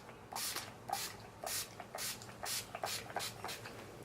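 Scandinavia setting spray misted onto a face in a series of about eight short, soft hissing spritzes in a quick, uneven rhythm, close and quiet with no talk.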